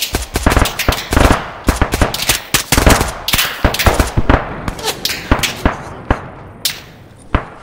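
In the video game ArmA III, close machine gun fire rattles out in rapid bursts of sharp, loud shots, the rhythm stopping and starting and thinning toward the end.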